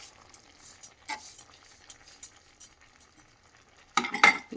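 A spoon stirs ripe red chili and tomato chutney with tamarind in a pan, giving soft intermittent scrapes and light sizzles before a louder burst of scraping near the end.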